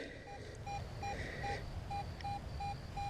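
A metal detector in a park gives faint, short electronic beeps that repeat at a steady pace over a low background hum.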